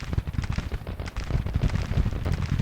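Civil War musket fire crackles continuously in the Grand Tactician strategy game, dense overlapping pops and rumbling volleys forming a steady battle din with no voice over it.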